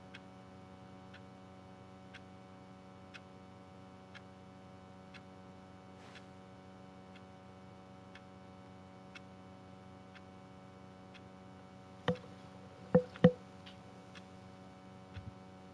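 A clock in The Stanley Parable ticks steadily about once per second, faint against a low hum, with a few louder clicks near the end.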